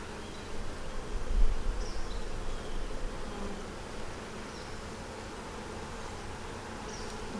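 Honeybees drone in a dense, continuous buzz around an opened hive while the boxes are reversed, the hum steady and close with occasional louder passes of individual bees.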